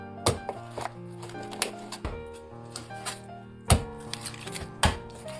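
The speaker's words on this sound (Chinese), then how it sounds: "先把这个鸡腿给它剁了" A cleaver chops chicken drumsticks on a board in a small rented-room kitchen. Several sharp, irregular whacks ring out close by, with quieter knocks between them.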